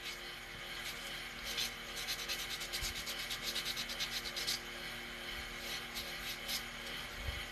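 Sandpaper rubs against turned wood spinning on a lathe, a quiet rhythmic scratching in quick repeated strokes over a steady background hum.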